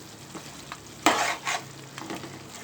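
Tomato puree is poured into a hot pan of sizzling chicken curry, setting off a sharp burst of frying hiss followed by a few shorter sizzles and stirring scrapes, close and with no talk.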